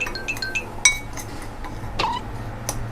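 A spoon stirs roasted rice powder into a Thai jaew dipping sauce for grilled beef, giving several sharp, bright clinks against the bowl at irregular intervals, close up and alone.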